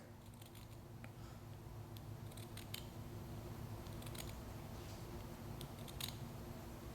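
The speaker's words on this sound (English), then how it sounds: "I'm cutting the cotton with the grain." Scissors snip through cotton ball wool being cut into wicks for a vape coil, giving faint, scattered crisp snips over a steady low hum, with no talking.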